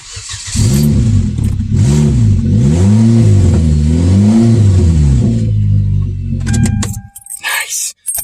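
A 2009 Hyundai Sonata 2.4 engine, installed but with no exhaust hooked up, cranks and catches, then revs up and down in repeated rising and falling sweeps. It runs loud and close for about six seconds before shutting off.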